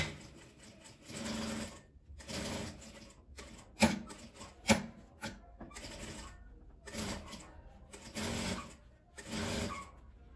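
A sewing machine stitches bias binding along the rounded edge of a fabric case for crochet hooks. The motor runs in short, close bursts separated by pauses, with a couple of sharp clicks between runs.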